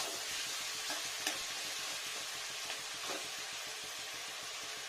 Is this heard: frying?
yes